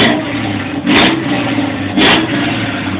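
A motorcycle engine revs up sharply twice, about a second apart, each burst rising over a loud, steady running drone, close to the listener with no talking.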